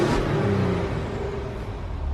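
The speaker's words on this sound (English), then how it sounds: "So we'll do a couple of blips inside and then outside so you can hear it, you know, the exhaust" A Maserati Levante SQ4 SUV idling in regular mode with a short exhaust blip at the start, then a steady, close engine drone, with no talk.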